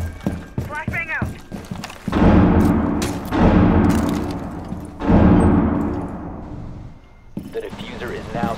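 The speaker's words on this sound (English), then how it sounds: "Flashbang out!" A flashbang grenade detonates in Rainbow Six Siege, giving two loud broadband bursts with ringing decay in the middle of the clip. They come between short stretches of talk and other game noise.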